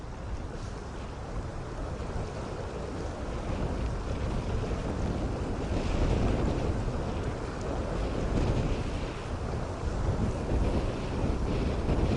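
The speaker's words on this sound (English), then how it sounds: "we have like a very heavy wind" Heavy wind buffets a Patagonian shoreline during fly fishing, a loud continuous roar that swells and eases across the whole stretch with no voices.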